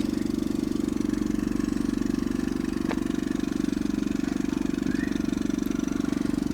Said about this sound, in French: Dehors j'ai l'impression que le plus c'est le tuyau d'échappement parce que sur la caisse il n'y a pas énormément de bruit